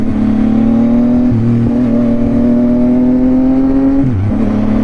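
A loud, close Yamaha XSR900 three-cylinder motorcycle with a drift exhaust revs continuously with a steady throaty exhaust drone, the pitch dipping briefly twice as it shifts.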